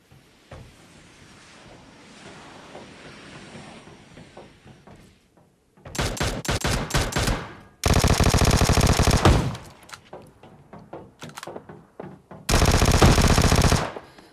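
Vector submachine gun fire in the PUBG Mobile video game comes in three loud full-auto bursts, each lasting a second or two and separated by brief gaps, with quieter game ambience between them.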